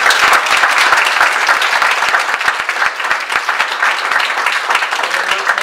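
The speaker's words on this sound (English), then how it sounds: "let's give a round of applause to Harriet Anderson, who's been a timekeeper" A crowd applauds steadily and loudly throughout, dense overlapping claps with no pause.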